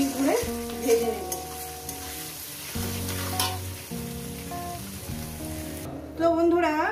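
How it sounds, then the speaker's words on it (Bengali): Onions frying in a pan for a potato and katla fish curry, a close, steady sizzle with stirring, set against tuneful background music. "এবার এটাকে মিনিট 2-3 ধরে ভেজে নেব।"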